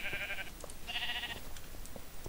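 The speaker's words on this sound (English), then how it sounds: "There's a sheep in here." Two bleats from a sheep in the Minecraft video game, each roughly half a second long and clearly separated by a short gap, heard over a faint, steady background.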